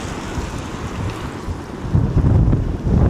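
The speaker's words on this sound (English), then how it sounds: "It's windy." Wind blowing outdoors on a cool, cloudy day in Florida, buffeting the microphone with a loud, rumbling, uneven roar that gusts harder toward the end, no voices.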